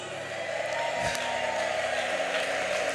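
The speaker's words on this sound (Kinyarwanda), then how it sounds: "Ababyeyi muyivugirize impundu" Women in a church congregation ululating in praise, a sustained, bright trilling crowd sound with cheering, steady and loud throughout.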